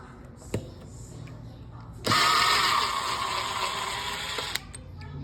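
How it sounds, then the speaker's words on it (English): A screwdriver backs screws out of a Schlage Encode smart lock's front housing, a steady whirring grind lasting about two and a half seconds, with a couple of sharp clicks before it starts and as it stops, close by. "Then you take these 2 screws off to get the front part out."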